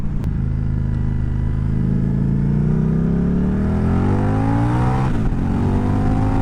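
A 2025 Indian Scout 101 motorcycle engine revving loud and close, a deep throbbing roar climbing steadily in pitch as it accelerates through the revs, with a brief gear-change dip near the end.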